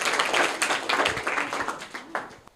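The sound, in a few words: applause for a student who answered correctly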